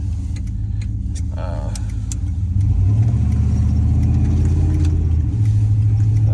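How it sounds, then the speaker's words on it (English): A Chevy K1500 pickup truck engine hums steadily, then revs up louder as it pulls away, with a droning low rumble and a brief voice underneath. "she revs out a lot better than she did, so we'll see on this little takeoff here"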